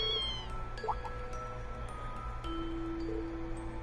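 A kitten meows a few times in the video game Legend of Heroes: Trails of Cold Steel, fairly close, with a soft synthetic tone against a steady humming background.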